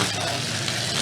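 A truck's LS V8 runs steadily at a near, constant level with a broad, rough engine tone and no clear rises or drops; the sound continues without talk for about a second.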